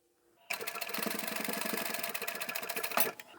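A sewing machine stitches a tote bag seam, including a back stitch. One steady, rapid mechanical run of about three seconds, close and clear, starting and stopping abruptly, with no voices.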